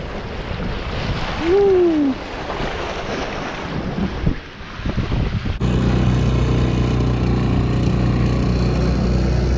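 Ocean waves and steady wind buffeting a small dinghy surfing along the edge of a reef, a rushing wash and gusty roar throughout, a brief whoop early on.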